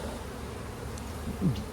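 Honey bees in a nuc hive with about four combs give a soft, continuous buzzing drone close by, with one brief louder buzz near the end and no talking.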